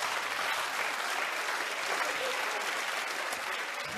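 A theatre audience at a comedy show claps steadily and densely for the whole stretch, a sustained, even wash of applause with no voices standing out.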